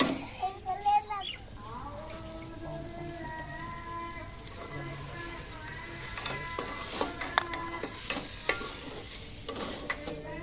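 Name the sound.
stirring potatoes into frying masala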